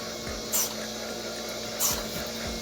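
A Surge milker machine milks a cow on a homestead hobby farm, a steady low hum with a faint pulsing pattern and two short bright hissing bursts of air, close by and with no talk.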